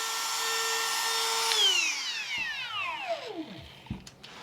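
A Ridgid cordless brushless Octane router whines at a steady high pitch, then winds down, its tone sliding lower as the motor coasts to a stop. A couple of faint knocks follow, with no talking.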